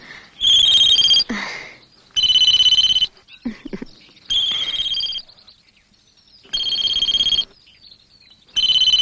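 A phone rings in repeated electronic bursts, about four or five rings separated by short pauses, loud and close.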